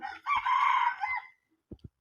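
A crossbred red game rooster crows once, loud and close, in a single drawn-out call lasting about a second. Two short soft thumps follow after a brief pause.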